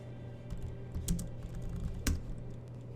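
A computer keyboard is tapped to enter a route command on a Linux router in a home network lab, giving a few quiet, scattered key clicks with two sharper keystrokes over a steady low hum.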